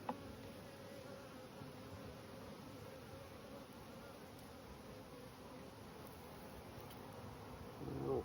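Honey bees buzz steadily around a late-season swarm on a bird's nest, a faint, continuous, close drone that holds evenly throughout with no voices.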